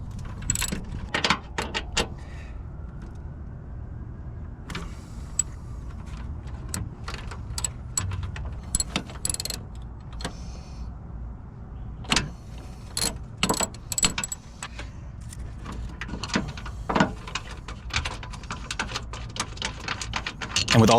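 A 15mm socket ratchet working on transmission mount bolts of a 2009-2013 Mazda, scattered metallic clicks and clinks over a constant low background hum, close up and without talk.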